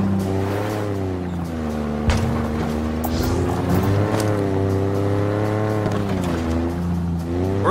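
Vehicle driven in Halo Infinite, a close, loud engine drone with a steady tone that rises and falls as it revs, plus a brief thump partway through.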